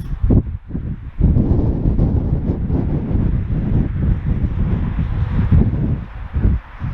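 Steady wind blusters across the microphone at a harbour, a loud continuous roar with brief dips and gusts, no voices.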